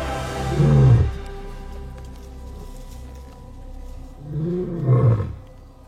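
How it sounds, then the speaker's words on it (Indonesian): An African lion roars twice in the wild, each deep, rumbling roar rising and then breaking into low grunts, with a quieter low rumble and faint background noise between the two calls. "yaitu singa Afrika."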